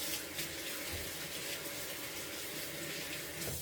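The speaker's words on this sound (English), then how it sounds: "I'm going to wash my hand" A tap runs steadily while hands are washed at a sink, a continuous close hiss and splash of flowing water with no speech over it.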